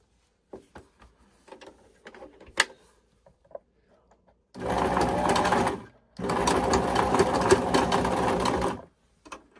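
A EuroPro Shark sewing machine runs in two steady bursts, a short one and then a longer one of about three seconds, while its thread keeps locking up. Soft clicks and handling noises come before the bursts.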